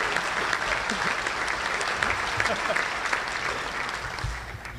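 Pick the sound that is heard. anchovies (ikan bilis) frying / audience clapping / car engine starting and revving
audience clapping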